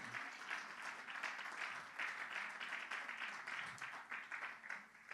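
Dense, continuous applause from a church congregation clapping together at moderate volume, heard from some distance with a slightly uneven, pulsing rhythm.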